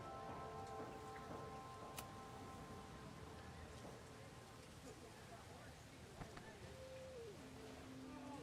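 Rainfall in the video game Life Is Strange Reunion, an even hissing patter of drops lasting throughout, low in level, with a couple of faint knocks and soft background tones.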